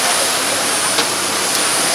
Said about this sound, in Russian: Большой самолет. Мы на таком прилетели.